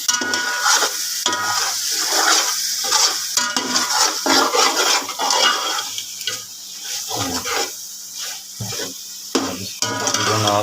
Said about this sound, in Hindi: आपने 1 से 2 मिनट मिक्स करना है